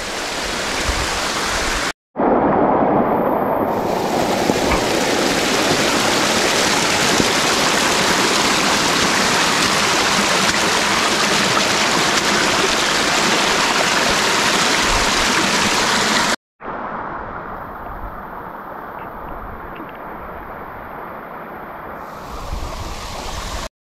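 Water rushes down the stone steps of Nimgiri fort, a loud, steady roar like a small waterfall, close to the microphone, with two abrupt cuts into slightly quieter stretches of the same flow.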